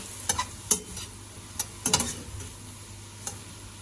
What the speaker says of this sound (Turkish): et kavurur gibi tereyağı ile mantarlarımızı kavuruyoruz